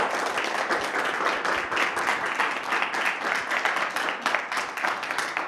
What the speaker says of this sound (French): On peut applaudir Monseigneur Hervé Gosselin.